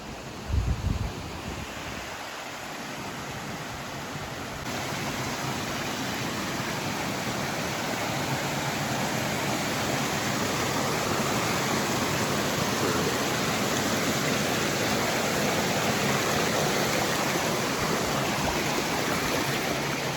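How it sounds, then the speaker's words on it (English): A small forest stream tumbles over rapids on a North Georgia trail, a steady, dense rushing wash close by. A brief knock opens it before the water noise settles in, broad and unbroken, with no talking. "Some nice little stream, some rapids."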